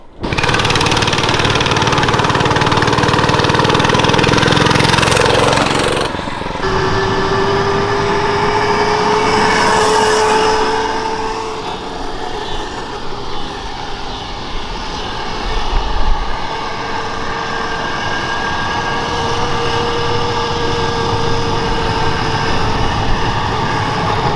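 Oryxearth 105cc gas mini bike engine running while ridden, a loud, steady droning buzz that rises and falls in pitch as the throttle changes, going on without a break and with no talking.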